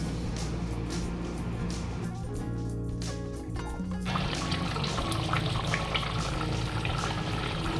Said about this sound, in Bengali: চিংড়ি মাছটা দেওয়ার পরে বেশ কিছুক্ষণ ফুটে গেছে গ্রেভিটা